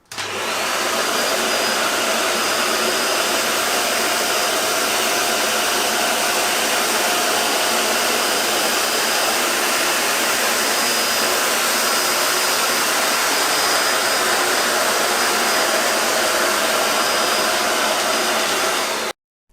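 A Xiaomi Youpin Deerma DX800s cordless stick vacuum cleaner runs continuously at close range, a steady high-pitched whirring motor with airy rushing noise, starting and stopping cleanly.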